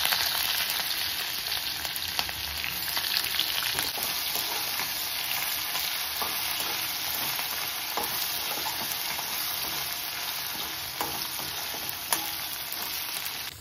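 Ginger garlic paste sizzles steadily in hot oil after mustard seeds crackle, a dense continuous frying hiss with occasional pops and stirring scrapes, close and even throughout with no voices.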